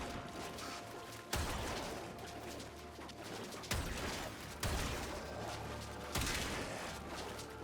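Shots fired in Warframe at enemies caught in Hydroid's tentacles: four sharp, loud blasts spaced a couple of seconds apart over a dense, continuous bed of game noise and ambience.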